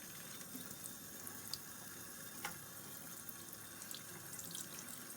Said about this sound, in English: fill this container up with some clean water